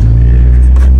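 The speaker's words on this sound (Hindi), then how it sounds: "बस गाड़ी चल रही है।" A car engine idling up close, a loud, steady low rumble that holds without a break for about a second.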